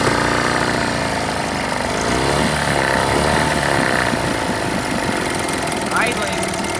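A 1980 Chrysler Sea King 15 hp outboard motor idles steadily and fairly loud throughout, running rough on one cylinder with a continuous low engine drone, and a voice speaks briefly over it.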